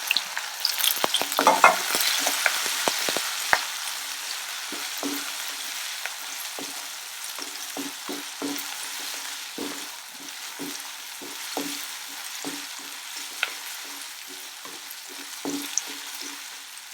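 Ginger, garlic and onion sautéing in a pan with green chillies, dried red chillies and curry leaves for brinjal biryani, a steady sizzle broken by frequent scraping stirs of a spoon against the pan, close and clear, with no talking.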